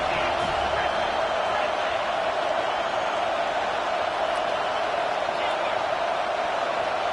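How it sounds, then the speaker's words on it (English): A stadium crowd at a college football game, Washington at FSU, roars steadily for the defense on third down, a dense continuous wall of cheering. "Decibels rising as the crowd gets behind this defense on 3rd down."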